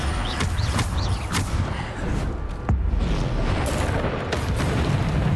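Bombarda blasting-spell explosions in the Hogwarts Legacy video game boom several times over a dense rumbling, crackling battle din, loud and close.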